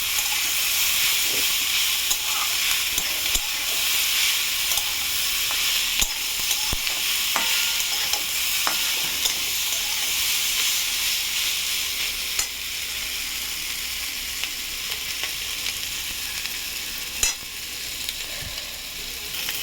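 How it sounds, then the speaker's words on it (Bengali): Fish sizzles and spitters steadily in a hot pan with spices, a continuous broadband frying hiss with occasional sharp pops and clicks of stirring, loud and close with no talk. "এরকম করে কষিয়ে নিতে হবে সুন্দর করে মাছের সাথে, যাতে মশলাগুলো মাছের ভেতরেও ঢোকে"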